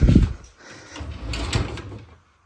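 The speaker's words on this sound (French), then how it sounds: "on peut pas vraiment les ouvrir jusqu'à leur maximum capacité." Two drawers of a newly assembled piece of furniture slide open at close range, each a short rumbling scrape with a light knock, spread over a couple of seconds in a quiet bedroom.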